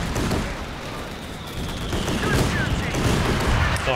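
A Centaur tank fires at an anti-tank gun in Company of Heroes 2, a rapid rattling fusillade of automatic cannon shots over battle noise, loud and sustained, with faint voices mixed in.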